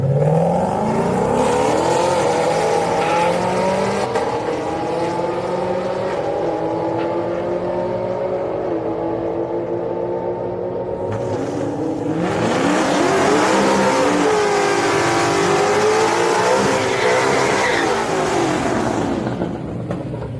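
Cars launching at a Friday street-night drag race at Houston Raceway Park roar loudly nearby, the engine pitch climbing steadily as one pulls away, then a second loud launch surges in and rises again.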